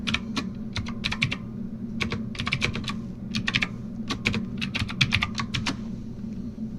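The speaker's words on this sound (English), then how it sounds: "type in the same password as you have it up here" Password being typed on a computer keyboard, quick bursts of crisp close keystrokes in irregular clusters over a low steady hum.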